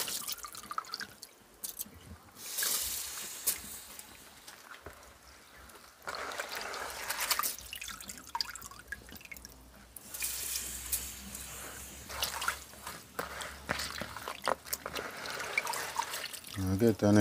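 Water runs and splashes over rice being washed in a kitchen, a steady trickling and dripping wash with a few louder surges, under a person talking throughout.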